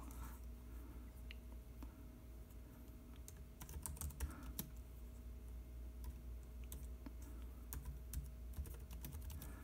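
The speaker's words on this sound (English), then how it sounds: "See, the typing works pretty good." Typing on a Brydge Surface Pro keyboard connected to an iPad Pro: quiet, irregular clusters of close key clicks, with a brief rapid flurry in the middle and no talk.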